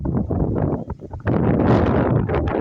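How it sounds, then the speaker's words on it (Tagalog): Strong wind at Kilometer 90 in Infanta, Quezon, gusting hard across the microphone in loud, rumbling buffets, with a brief lull before a stronger sustained blast. "napakalakas ng hangin dito"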